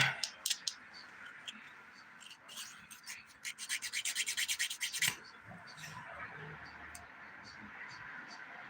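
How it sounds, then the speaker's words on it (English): A nail file rasps against fingernails during a dip-powder manicure, coming in short scratchy strokes and then a quick rhythmic run of about a dozen rubs before fading into quiet room noise. "let's get to filing because I'm sure we can start"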